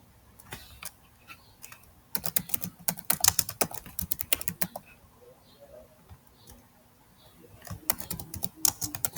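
Rapid keystrokes on a computer keyboard as book details are entered into a web-based library information system, the clicking coming in uneven bursts with brief pauses between them.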